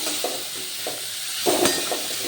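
Carrots, potatoes and other vegetables frying in a pan are stirred with a spoon, giving a steady close sizzle broken by rhythmic scraping strokes and a louder clatter near the end.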